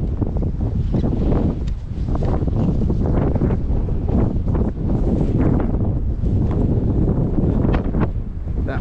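Strong wind buffets the microphone on a mountain trail at Moosic Mountain Preserve, a loud, steady roaring rumble with gusty surges throughout and no talking.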